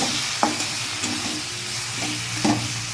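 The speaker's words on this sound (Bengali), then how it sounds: "কষিয়ে নেব টমেটোটা না গলা অবধি আমি একটু কষিয়ে নেব" Green chili paste and tomato masala stir-fried in a pan for dhaba-style chickpea-pea ghugni, a steady close sizzle broken by several scraping spatula strokes, no voices.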